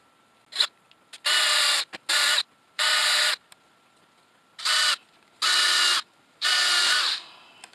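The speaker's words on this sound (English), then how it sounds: "We're just going to drill a couple of holes because I'm going to pre-drill this." Cordless drill pre-drilling holes in a wooden mailbox post, whining in about seven short, sharp bursts of varying length with brief pauses between, close and loud.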